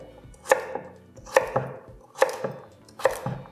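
A knife chops through an onion on a cutting board in four evenly spaced, crisp thuds, each with a short clatter after it, close and clear with no talking.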